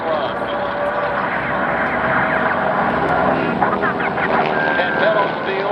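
Replica Japanese Zero fighters make a strafing pass at a Tora! Tora! Tora! air show, a loud sustained propeller roar that swells and holds under a public-address narrator's voice.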